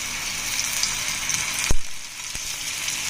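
Oil sizzling on a bottle gourd paratha on a hot griddle, a steady hissing fry with a sharp sputtering burst midway and a smaller crackle after, no talking.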